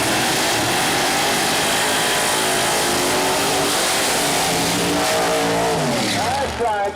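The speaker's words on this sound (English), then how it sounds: "That's right, Tricky Ricky Smith going a little bit sideways across the starting line, laying down the fresh rubber on the racing surface to provide a little bit better traction for these machines." A nitrous Pro Mod door-slammer drag race car does a burnout across the starting line at Mooresville Dragway, laying rubber on the track: a loud, continuous roar of engine and spinning tires. An announcer talks over it.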